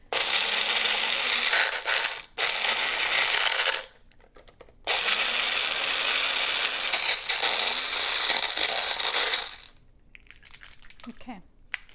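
A food processor blade whirs in loud bursts while chopping pesto to a chunky texture, several pulses of a few seconds each separated by brief pauses, close and alone.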